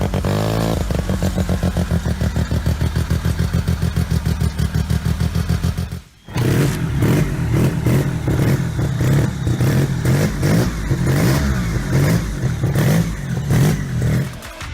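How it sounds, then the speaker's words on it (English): A rotary-engine snowmobile buzzes loud and close, first a fast steady rattling idle, then after a brief dip a series of sharp, rhythmic revs and blips with a rough, raspy edge. "The rotary snowmobile."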